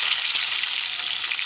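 Onion frying in oil gives a steady, close, moderate sizzle with no voice over it.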